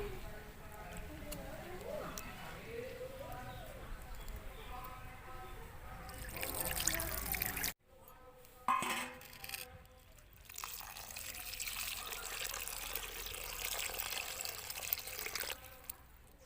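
Small fish being rinsed under running water in a kitchen, with trickling and splashing water, some clatter, and a voice talking over it for part of the time.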